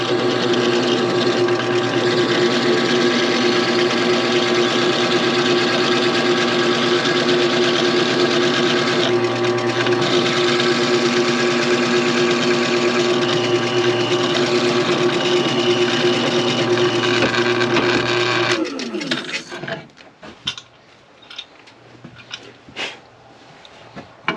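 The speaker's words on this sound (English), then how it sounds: "We got one hole of it drilled, one half of it." Drill boring a hole through a wooden pen blank, a loud steady motor whine that holds for about eighteen seconds before spinning down into quieter, uneven rattling.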